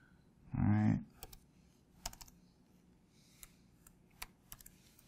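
Typing on a computer keyboard, a few scattered faint key clicks close by after a short vocal sound at the start.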